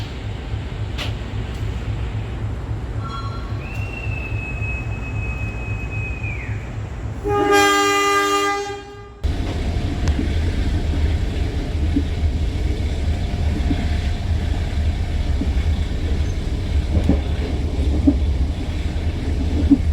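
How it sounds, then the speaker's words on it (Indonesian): Kahuripan passenger train pulling into Maos station, a steady rumble of wheels and carriages with a long horn blast and a ringing crossing bell midway, heard from inside the moving train. "Perjalanan kereta api Kahuripan masuk stasiun Maos itu masuk Cilacap ya"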